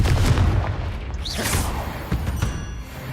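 Confringo blasting spell exploding in Hogwarts Legacy, a loud boom with crackling blast noise and a bright whoosh mid-clip, alone without talk.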